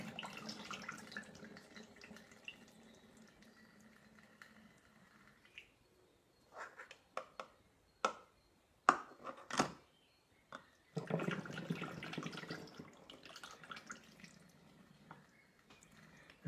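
Water runs into a container of blended raw oat milk, a steady pouring wash near the start and again near the end, with a few sharp drips and small knocks in between.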